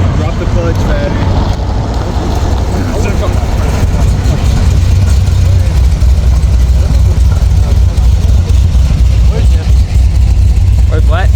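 Cammed car engine idling at a small-town car meet, a loud, steady low rumble that holds for the whole stretch while people talk nearby.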